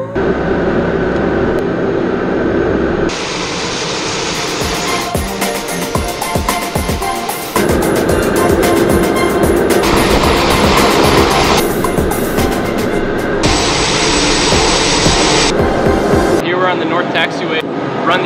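An aircraft engine run on the ground during de-ice boot testing produces a loud, continuous roar that shifts in pitch and intensity between power settings, with a voice talking over it.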